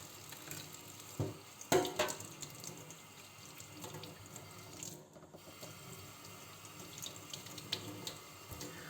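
Fireweed roots being rinsed under a running tap over a sink, a steady close splash of water with short louder bursts as the roots are moved and scrubbed, no voices.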